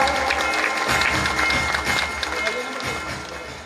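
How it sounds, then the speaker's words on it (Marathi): Audience applause welcoming a guest of honour at a Vishwakarma Jayanti community ceremony in Washim, a steady crowd of clapping sustained throughout with a slight dip near the end. "सर्वांनी टाळ्या वाजवून या ठिकाणी त्यांचं स्वागत करावं"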